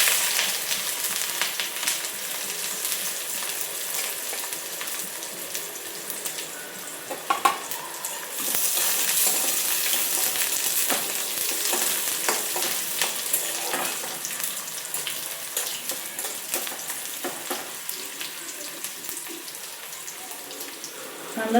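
Chopped onion frying in hot oil with mustard seeds and cumin, a loud continuous sizzle that swells partway through, with occasional stirring scrapes, close up.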